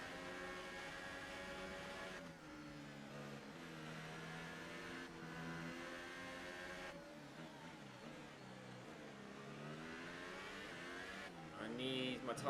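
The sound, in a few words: Formula 1 race cars from the video game F1 2018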